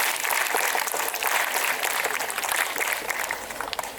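Dense applause from a school audience at a Children's Day event, with steady clapping that holds for several seconds and fades slightly toward the end.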